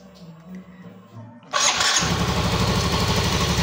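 A Yamaha Soul GT motorcycle with a drilled 1 mm oil passage in the head fires up after a second and a half of quiet background sounds, then runs loud and steady, close by.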